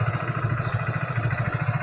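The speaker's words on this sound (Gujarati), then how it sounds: "આપણે જો આપણે હોન્ડા ચાલુ કરી નાખ્યું છે" A Honda motorcycle engine idles steadily after starting, a close, continuous low throbbing with an even, rapid pulse and no voices.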